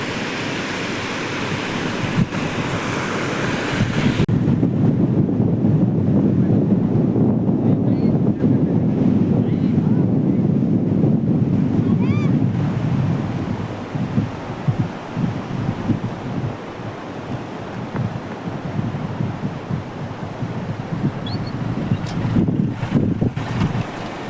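Wind buffets the microphone loudly over a steady rush of sea waves breaking on a beach at Harihareshwar on the Konkan coast, the gusts easing midway to leave rolling surf with intermittent crashes.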